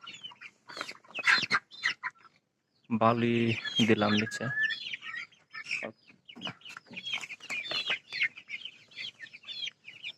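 Tiger breed chicken chicks in a pen with fresh sand bedding peep and cluck in quick bursts throughout, close by and mixed with someone talking over them.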